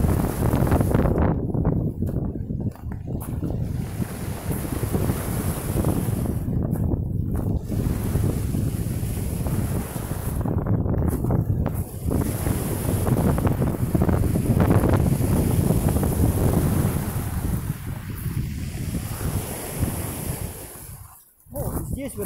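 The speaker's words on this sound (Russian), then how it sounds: "Камушки шумят." Black Sea surf rolling over a beach of small pebbles in Anapa, a steady roar of water with hissing, rattling surges that rise and fall, wind gusting against the microphone.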